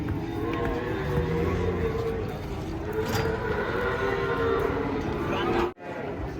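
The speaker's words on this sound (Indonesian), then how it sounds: "Nih datang 2 ekor ini. Sapi belum mandi nih." Cattle unloading from a truck at the Pon livestock market, with low cow moos and bellows sounding through steady crowd noise and engine rumble, the din continuing without a break except for one short dropout near the end.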